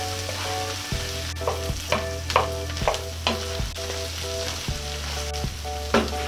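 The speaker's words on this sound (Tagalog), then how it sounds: "Haluin natin ng konti para pantay po yung pagkaluto." Garlic shrimp frying in a pan crackles with a constant close sizzle while a utensil stirs in regular scraping strokes, over a steady low hum, with no voices.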